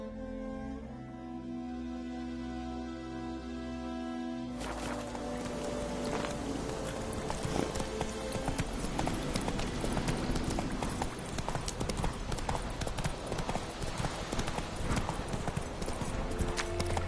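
In the video game Witcher 3 on PS4, Geralt's horse Roach gallops with rapid, steady clip-clopping hooves that start after a few quiet seconds and continue loudly to the end.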